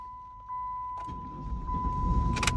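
A Volkswagen New Beetle with the 2.5 engine cranks and catches, a steady electrical whine first, then the starter engaging and the engine rumbling into a rough, building idle, close to the microphone.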